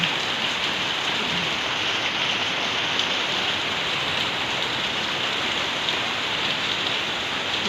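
Steady, heavy rain pouring down and hissing on surfaces, a dense unbroken wash of sound with no voices.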